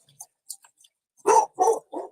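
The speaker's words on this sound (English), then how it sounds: "No idea what the hell they're barking at." Dogs bark indoors in a home, three loud close barks in a quick burst after a few faint noises, with no talk over them.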